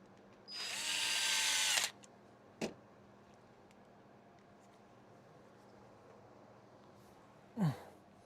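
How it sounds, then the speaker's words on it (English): During a game console repair, a power drill whirs in one clear burst of about a second, followed later by a few short faint clicks and a brief final whir, in a quiet room. "Maybe I need a few screws in."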